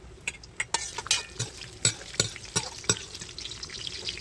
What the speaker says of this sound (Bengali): কড়াইতে সাদা তেল দিয়ে তেলটা গরম করে নেওয়ার পর বেশ কিছু কাজু আর কিশমিশ ভেজে তুলে নিয়েছে